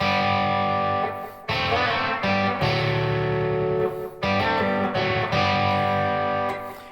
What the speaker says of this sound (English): And our first riff for the guitar is going to sound like this.